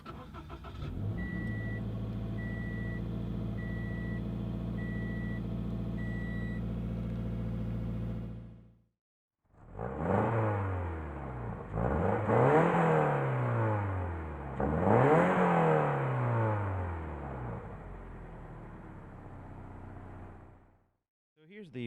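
A 2016 Scion FR-S Release Series 2.0 engine hums steadily at idle for several seconds, then drops out briefly before a person talks over a continuing low car drone.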